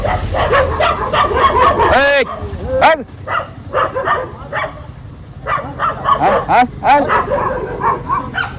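Several dogs bark repeatedly nearby, sharp yips and woofs in bursts, with a brief pause between flurries.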